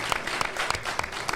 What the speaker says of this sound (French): on peut aussi applaudir Nicolas Duel qui vient de nous rejoindre